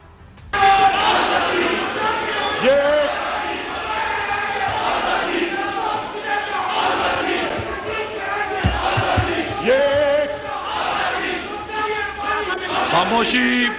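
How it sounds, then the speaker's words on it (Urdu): A crowd of lawmakers in a legislative assembly shouts and chants slogans, the rhythmic voices loud and sustained over a hubbub of chatter for the whole stretch. "خاموشی نعرے بازی مت کریں۔"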